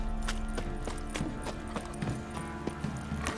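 Steady clip-clop of horse hooves trotting in an even rhythm in the video game The Witcher 3: Wild Hunt, close and continuous, with faint ambient noise underneath.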